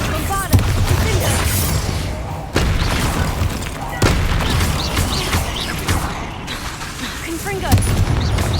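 Bombarda and Confringo spell blasts in Hogwarts Legacy inside a dungeon, each a loud booming impact with crackling debris, landing at intervals of a second or two amid rumbling mechanisms, while a voice speaks between blasts.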